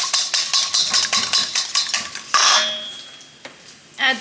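A whisk clatters rapidly against a saucepan in a home kitchen while hollandaise for eggs Benedict is prepared, a steady metallic scraping rhythm that pauses near the end before a final clink.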